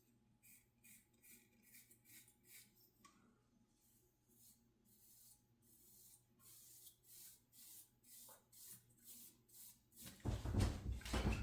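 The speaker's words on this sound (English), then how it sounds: "I'm gonna do a little spray, moisten my hair before I really get into it." Repeated short hissing bursts from a spray bottle misting hair in a quiet room, several quick pumps in a row, followed by louder rustling and rubbing near the end.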